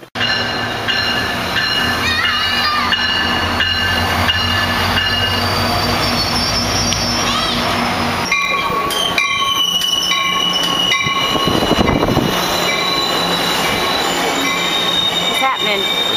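Train wheels squeal loudly and continuously with high, sustained metallic tones over rumbling rail noise; partway through the squeal shifts pitch as the train keeps rolling, close and without talk.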